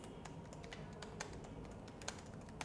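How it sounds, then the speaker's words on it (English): Typing on a computer keyboard produces a continuous flurry of soft, quick key clicks with a few sharper taps, heard close over a low background hum, with no voices. "I'll type here"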